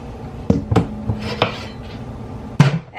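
A knife cuts tomatoes for tomato sauce, giving a handful of sharp, irregular clacks against a board or bowl, close and fairly crisp, with quiet kitchen rustle between them.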